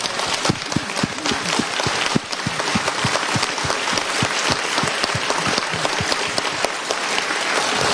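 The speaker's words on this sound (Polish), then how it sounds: "Te brawa to są też i dla was, proszę państwa." A studio audience at a political discussion show claps steadily and continuously, a dense, close patter of many hands with no break throughout.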